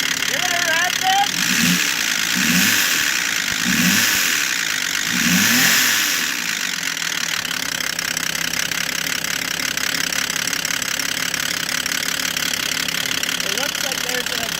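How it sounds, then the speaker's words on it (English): A Volvo XC90 engine idles with a rough, diesel-like clatter from an exhaust leak, loud and steady throughout, with a few low revs early on and voices talking over it. "It looks like there's an exhaust leak right there."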